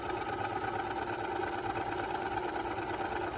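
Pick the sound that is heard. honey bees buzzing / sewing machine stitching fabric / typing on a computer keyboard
sewing machine stitching fabric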